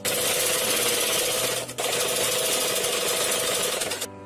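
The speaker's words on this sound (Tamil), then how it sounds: "ரெண்டு ஷோல்டர்லயும் அப்படியே ரெண்டு தையல் போட்டுருணும்." Sewing machine stitching the shoulder seams of a blouse: a steady, close mechanical whir with a fast motor hum, briefly dipping once before running on.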